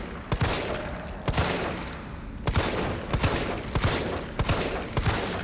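Gunshots in Resident Evil 3, a series of sharp, loud reports fired at an irregular pace, single shots followed by quicker clusters over a tense game background.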